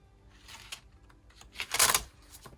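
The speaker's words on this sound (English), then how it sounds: "So that's the noise you're hearing, is the pages separating." Faint, quiet crackles and rustles of notebook pages pulling apart, in a few short bursts with one louder crinkle near the end.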